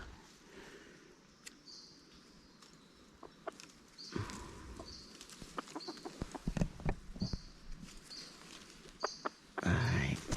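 Red junglefowl clucking in the forest at dusk, scattered soft clucks and short calls at a moderate distance, with rustling footsteps and someone talking quietly.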